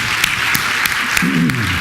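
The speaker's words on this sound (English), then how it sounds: "let's start with an applause for them because it means a lot" Conference audience at PitchCon 2012 applauds the event staff: a steady wash of many hands clapping fills the room, with sharper individual claps standing out and a voice rising briefly near the end.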